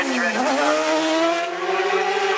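Racing motorcycles at the Isle of Man TT roaring past close together, a loud sustained high engine whine with a falling pitch as they pass.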